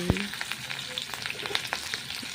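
Chopped garlic and green chilli fry in a little oil in a pan, a close, steady sizzle with light crackles and a stirring knock at the start.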